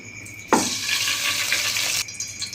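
Ghee poured into a hot kadai on a stove, a sudden loud hiss that bursts in and holds steady for about a second and a half before dropping back to a low background.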